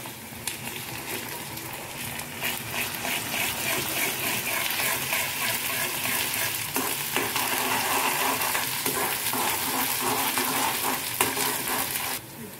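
Onion with ginger and garlic frying in a pan, a loud, dense sizzle that holds steady for several seconds with stirring scrapes mixed in, then cuts off abruptly near the end.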